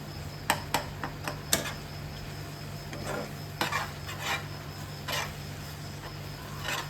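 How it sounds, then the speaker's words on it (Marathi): A thickened jaggery mixture being stirred and sautéed in a pan, with a few sharp utensil clicks and scrapes over a soft, quiet background hum and no talking. "अशा प्रकारे आपल्याला हे सगळं जे आहे ना इथे व्यवस्थित परतून घ्यायचं आहे"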